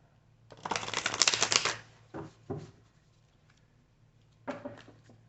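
A deck of oracle cards shuffled by hand, close and fairly quiet: a long burst of riffling papery flicks, two short shuffles after it, a pause, then one last brief burst, with faint low background hum throughout.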